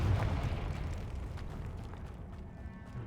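Confringo fire spell blast in the video game Hogwarts Legacy: a loud, rumbling explosive boom that bursts at the start and rolls away into a long, dense low roar.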